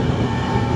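Steady rumble and rattle of a train rolling on rails heard from inside a carriage on the journey from Chennai to Theni, loud and continuous with no talk.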